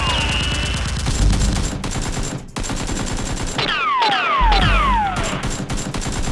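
Nerf guns fired in rapid bursts during a mock battle, loud close clattering shots with whirring mechanisms and rising whistling streaks.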